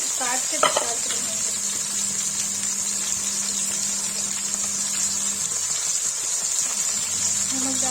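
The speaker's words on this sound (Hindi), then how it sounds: "फ्राई गाइस देखिए मशरूम फ्राई हो गया" Mushrooms fry in a pan with a steady, close sizzling hiss that continues throughout, with occasional stirring and a low background hum.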